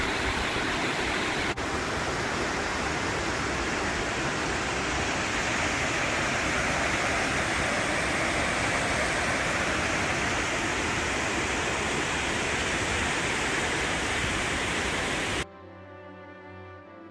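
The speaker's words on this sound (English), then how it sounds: "small falls nearly 40 feet high" A small waterfall nearly 40 feet high in Porcupine Mountains Wilderness State Park, Michigan's Upper Peninsula, roars as a steady, dense wash of falling water, close and unbroken for most of the clip before dropping away.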